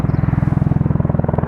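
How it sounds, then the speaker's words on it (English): A Merlin helicopter passes overhead, its rotor blades thudding in a fast, even, loud beat that dominates throughout. "Oh, that helicopter is clearly stalking me."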